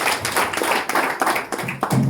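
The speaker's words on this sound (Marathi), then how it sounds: "म्हणून त्यांच्यासाठी एकदा जोरदार टाळ्या." Audience clapping at a Dashavatar folk theatre event in Maharashtra, a loose burst of hand claps with uneven bursts and pauses, fairly close, with no talk over it.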